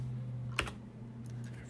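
Keys on a computer keyboard are pressed while login credentials go in. There is one sharp keystroke and then a few lighter taps over a low steady electrical hum, close and faint, with no speech.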